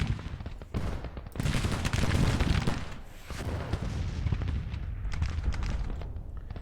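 Repeated booming fire from 12-pound Napoleon cannons in a Civil War battle in Grand Tactician, layered heavy blasts and rumbling reports overlapping in a dense, continuous barrage with no talking.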